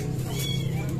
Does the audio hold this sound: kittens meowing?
yes